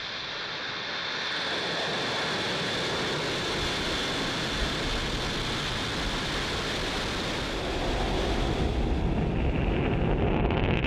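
A SpaceX rocket lifts off carrying Starlink satellites, a broad, steady roar that swells and holds at a distance and keeps rumbling throughout.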